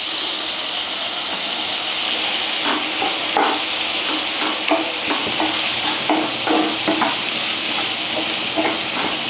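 Finely chopped tomato sizzles steadily in a pan for egg thoran, with a constant hiss under repeated scraping stirs of a spatula close by.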